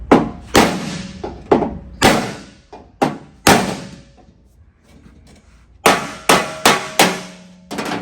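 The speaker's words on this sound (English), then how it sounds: "I'll just beat the shape into it" Repeated loud hammer blows on sheet metal being beaten into shape for a car door, coming in close irregular bursts of sharp metallic strikes with short pauses between groups.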